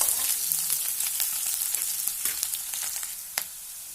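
Onions sautéing in a pan for a ridge gourd and egg fry give off a loud, continuous sizzle with soft crackles and an occasional spoon scrape near the end.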